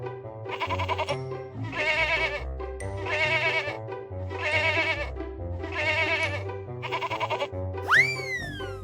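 A cartoon goat bleats five times in a regular rhythm, each call loud and close with short pauses between, then a springy boing sound closes the sequence.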